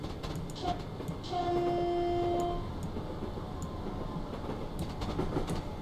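A train running in Train Simulator 2014, with a steady rumbling rail drone and rhythmic clatter, a sustained two-tone horn blast near the start, and scattered light ticks over the continuous engine noise.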